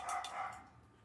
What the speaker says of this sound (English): I don't know what he's barking at, but he's barking.